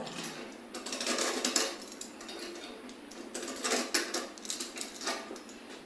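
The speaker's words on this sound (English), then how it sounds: "kind of scrape a little bit just to get that little sharp edge off so that you don't cut yourself on it" A tool scraping the freshly cut inner edge of a BMX handlebar tube makes repeated close, gritty metallic rasps in short uneven strokes, with no talk over them.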